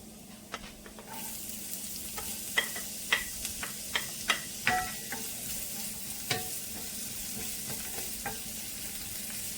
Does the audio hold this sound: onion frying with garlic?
yes